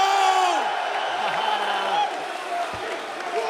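A home crowd at a UFC 286 press conference in London whoops and cheers loudly and continuously, with people talking over the crowd.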